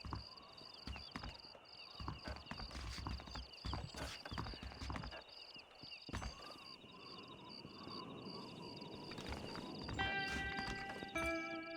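Horse hooves clip-clopping in Red Dead Redemption, a steady rhythmic clatter of several hooves close by, joined by music and other game sounds toward the end.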